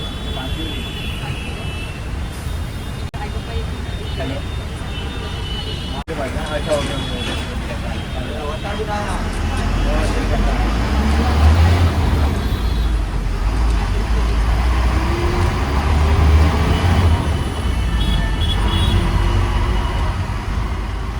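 A bus idles while stuck in a traffic jam: a steady low engine rumble and broadband road noise that swells slightly midway, with indistinct voices in the background.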